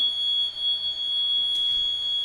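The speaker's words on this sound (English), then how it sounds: "without using fob cards, will trigger an alarm" A steady, high-pitched electronic door security alarm tone drones continuously at moderate volume, triggered by leaving a room without a fob card, with a faint clatter partway through.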